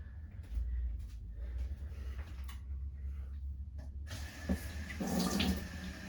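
A household tap runs while waiting for hot water during a Samsung Flexwash washer repair, a low steady flow that brightens into a fuller splash near the end, with a few clunks.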